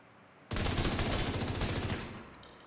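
A gun emptying a clip of roughly twenty rounds in a looter-shooter video game, a loud rapid-fire burst of evenly spaced shots lasting about a second and a half, then a fading tail and brief clinks.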